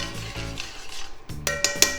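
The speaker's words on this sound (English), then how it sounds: "Give that a stir." Spoon stirring the cooking liquid of mussels in a pot, soft scraping followed by a few sharp metallic clinks, quiet and close with no talk.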